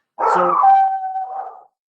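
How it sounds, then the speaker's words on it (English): A dog lets out a single drawn-out howling bark in the background of a quiet indoor room, one loud wavering call that trails off after about a second and a half. "I apologize for my dog in the background."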